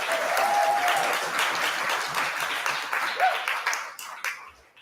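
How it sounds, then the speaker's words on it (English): Sustained audience applause at a university undergraduate research awards event, a full wash of clapping that slowly thins and fades toward the end, with a brief voice rising above it. "Just one more round of applause, please."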